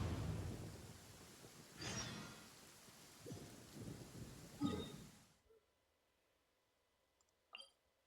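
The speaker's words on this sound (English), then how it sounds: "It's rainy." Steady rain falls in Genshin Impact, a hissing wash with a few louder bursts like thunder rolls, before cutting to near silence broken by a brief faint noise.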